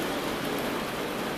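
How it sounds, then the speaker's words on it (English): Steady rain hisses evenly, a dense, continuous patter of drops with no other sounds. "This is the sound of the rain."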